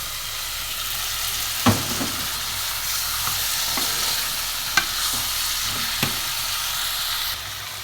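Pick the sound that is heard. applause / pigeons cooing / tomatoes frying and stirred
tomatoes frying and stirred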